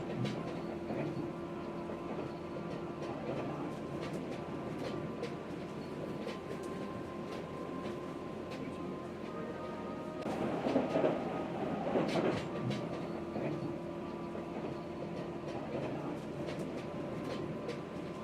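Train-riding ambience from the video game Kind Words 2: a soft, continuous rail rumble with faint rhythmic clatter that swells briefly midway, then settles back to an even, distant drone.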